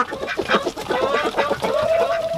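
Ducks and other fowl cluck and call loudly at close range while being fed, a busy, overlapping run of short clucks and squawks with no speech.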